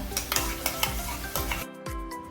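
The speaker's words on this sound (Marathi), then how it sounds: "इथे आपण ही प्युरी दोन मिनिटं परतवून घेऊया म्हणजे टॅमॅटोचा कच्चेपणा निघून जाईल" Tomato puree with homemade garam masala is stir-fried in a pan during okra masala cooking, with a close sizzle and repeated rhythmic spatula scrapes and clanks before a brief pause.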